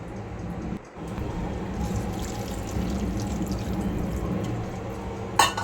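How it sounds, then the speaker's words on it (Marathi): Water poured steadily onto a vegetable curry of val beans, potato and drumsticks in a pan, a continuous close splashing stream lasting several seconds after a brief pause, ending with a small clink. "आता आपण पाणी घालूया ह्याच्यावर"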